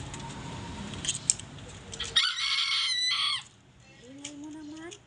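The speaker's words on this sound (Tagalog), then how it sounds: "Ingay ng mga manok namin." Backyard chickens cluck and squawk at mid-morning, then a rooster lets out one loud, close crow lasting about a second, followed by more scattered clucking.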